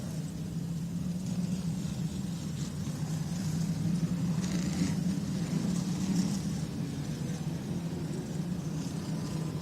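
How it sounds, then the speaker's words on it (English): Race cars roll off for pace laps at Thompson Motorsports Park before an evening race, giving a steady, distant engine rumble. The cars sit low and continuous under faint crowd and ambient noise. "So there go our cars into motion."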